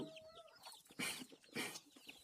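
Young chickens of a poultry breed cluck and squawk up close, a few quick, loud bursts of calls during feeding.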